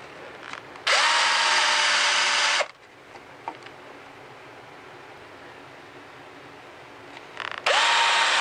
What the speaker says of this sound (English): I think I got all the holes drilled